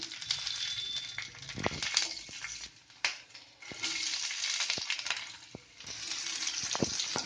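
Cumin seeds and a green chili frying in a spoonful of oil in a pan, a steady close hiss broken by sharper crackles and a few brief clicks, with no talking.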